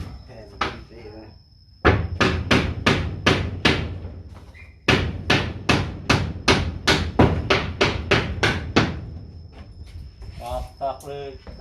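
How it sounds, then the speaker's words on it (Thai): Nails are driven with a hammer during house construction, two long runs of sharp, evenly spaced blows with a short pause between them, loud and close. A few voices come in briefly near the end. "ตอกเลยตอกเลยตอกเลย"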